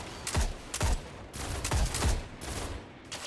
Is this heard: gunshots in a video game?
yes